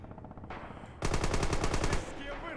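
A short, rapid burst of automatic gunfire rings out in the WW2 shooter Red Orchestra 2, about a second of loud, evenly spaced shots after quieter game ambience, then trailing off.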